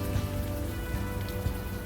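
Steady rain falls in the video game Unavowed, a dense, even patter of drops on a surface that runs continuously throughout, with no voices over it.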